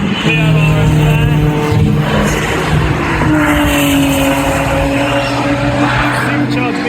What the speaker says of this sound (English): Supercharged V6. Nice sound there.